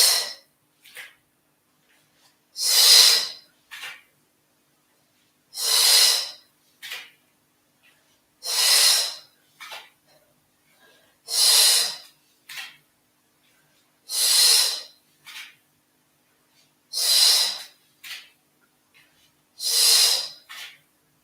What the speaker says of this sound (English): Exhale as you sit down. Inhale as you stand up.